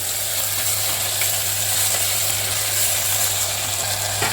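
Tomatoes fry in a pan for hotel-style rava kichadi, a steady close sizzle with faint scraping of stirring and a low hum underneath, no talking.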